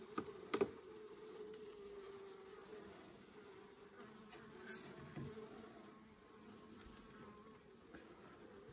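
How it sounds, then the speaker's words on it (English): Honeybees buzz inside a mini mating nuc with plastic queen cell cups. A steady, fairly faint hum runs throughout, broken by a few sharp clicks and knocks near the start and midway. "there's not a huge amount of bees in here though."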